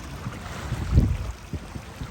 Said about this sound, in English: The boats keep coming.